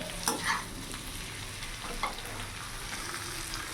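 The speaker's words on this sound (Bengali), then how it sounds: "গ্যাসটা অফ করে দেবো নাড়াচাড়া দিয়ে নামিয়ে দেবো" Small fish chorchori stirred in a kadai, a soft continuous sizzle broken by a few scraping clinks of the spatula, with no voices.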